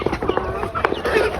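Native chickens on a farm in a cold spell cluck in several short, close calls, with overlapping faint background chatter from the flock.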